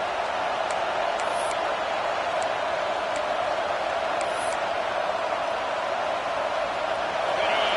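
A football stadium crowd at a game against Alabama gives a steady, roaring wall of cheering and noise. It holds at a constant level throughout with a few faint whistles on top.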